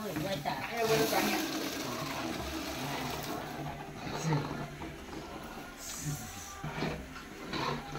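Water is poured into a pot of peas in a home kitchen, a steady splashing pour under lively talk from several people nearby.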